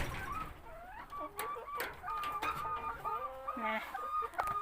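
Several chickens clucking and murmuring nearby in an irregular stream, with occasional louder squawks over a quiet background.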